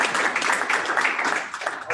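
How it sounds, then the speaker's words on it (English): Audience applause at a business breakfast event, a steady dense wash of clapping held at even loudness throughout without a break. "please join me in a quick round of applause to show our appreciation for that"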